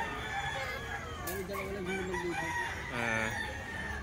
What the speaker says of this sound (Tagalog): Manok to ni Busapon mga bossing